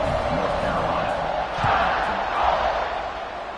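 A home stadium crowd at a football game roars steadily, a dense wash of cheering and shouting that swells briefly midway, heard from within the stands with no clear single voice.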